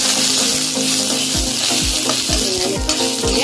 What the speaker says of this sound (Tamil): நம்ம எடுத்து வச்ச சாம்பாருக்கான வெங்காயத்தை ஆட் பண்ணி வதக்கிக்கலாம்